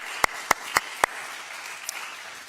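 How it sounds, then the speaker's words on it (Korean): Four sharp, evenly spaced hand claps ring out close in a church youth service hall, then stop, leaving a quiet room tone. "박수."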